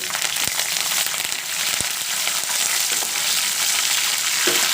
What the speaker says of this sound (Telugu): ఆనియన్ మంచి గోల్డెన్ కలరు వచ్చే వరకు ఫ్రై చేసుకోండి